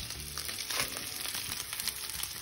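Onion dropped into a hot frying pan for homemade chop suey, a steady dense sizzle and crackle filling the space, close and even, with no talk.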